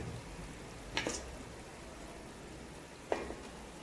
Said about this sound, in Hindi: अभी मैं इसमें चावल डालने लगी हूँ